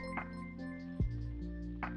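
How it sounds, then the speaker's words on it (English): A short notification alert chimes from a Twitch stream tool: a couple of bright, glassy pings with a low thump in the middle, clear and close, with no talking. "that's the noise that we're going to be using for new notifications"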